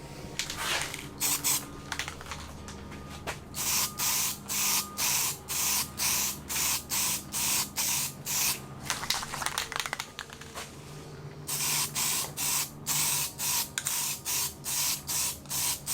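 Edge primer is sprayed from an aerosol can onto brake calipers of a Porsche 944 being rebuilt: loud hissing bursts, first irregular, then a fast regular series of short sprays, briefly pausing before another quick run, with no talking.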